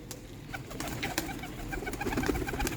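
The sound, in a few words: Sialkoti pigeons cooing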